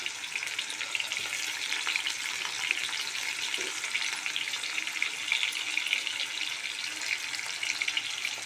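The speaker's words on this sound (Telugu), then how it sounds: "Oil heat ఎక్కిందండి. ఇప్పుడు మనం ఆనియన్స్ వేసుకుందాము." Onions sizzle and crackle in 3-4 spoons of hot oil in a pan, a steady, close, fairly loud frying hiss that holds without a break and with no voices.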